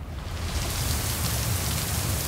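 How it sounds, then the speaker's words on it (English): Rain beginning to fall in the game Lake, a dense steady patter of drops on surfaces that swells slightly in the first moments and then holds, loud and close with no talk. "Oh, rain's coming."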